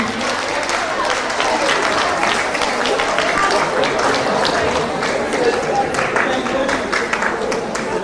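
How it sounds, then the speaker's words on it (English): Sustained, even applause from a midwifery conference audience fills the hall, with a voice speaking over the clapping throughout. "There's a one round of applause for her, please."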